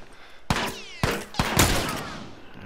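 Gunfire in The Last of Us Remastered: several sharp, loud shots ring out in quick succession, each followed by a brief echoing tail.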